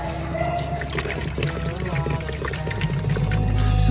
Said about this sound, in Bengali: এখন জাস্ট জলটা দেব।